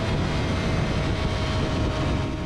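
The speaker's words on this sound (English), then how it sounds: "Listen to that CBR engine sing. Absolutely flat out, past everything." A Honda CBR1000RR engine roars flat out on the track at Brands Hatch, a loud, dense, unbroken high-revving drone mixed with wind rush, with no talking.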